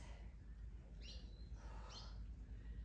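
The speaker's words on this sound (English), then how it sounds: "Are you laughing at me, birds?" Outdoors beside papaya trees, birds give two faint chirping calls about a second apart against a low, steady background rumble.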